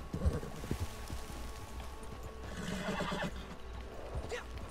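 A horse in a video game whinnies loudly, its neigh rising over clip-clopping hooves and game mechanism noise, close and continuous across the scene.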